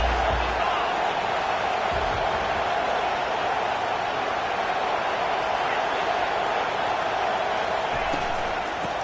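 A large football stadium crowd jeering at a team pinned deep near its own end zone, a loud dense wash of voices that holds steady throughout, with a play-by-play voice speaking over it.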